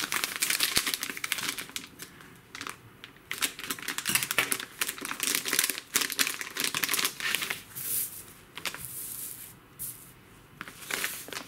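A plastic bag of Carp Pro Robin Red carp groundbait is handled and opened up close, giving bursts of crisp crinkling and rustling with short pauses between them. No one speaks.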